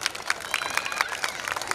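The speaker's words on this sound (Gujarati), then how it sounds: "એક વખત જોરદાર તાળીનો ગડગડાટ થઈ જાય" Clapping and cheering from an audience at an Ambaliya family community get-together, a dense continuous patter of many hands held at a steady level for the whole stretch.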